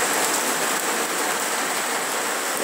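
Steady rain falls in a dense, even hiss that carries on without a break, close and fairly loud, near a green-painted MWM truck engine from a VW 17.210 Apache S21.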